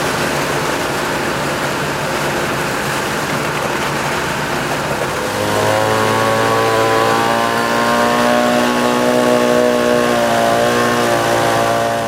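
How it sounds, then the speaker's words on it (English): Gas-powered power screed leveling a freshly poured concrete slab, its small engine starting up midway into a loud, steady buzzing drone over the rumble of the concrete truck nearby. "See what a nice job that power screed does too."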